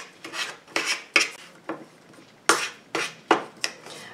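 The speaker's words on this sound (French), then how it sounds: "Et je reviens mélanger ma pâte." A spoon or spatula rasps and scrapes through a thick effervescent bath bomb paste in a bowl, a series of about ten short, close scraping strokes in an uneven rhythm.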